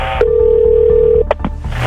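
A cordless landline phone dialing 911 sounds a long, steady electronic tone followed by two short beeps, close and clear over a low background hum.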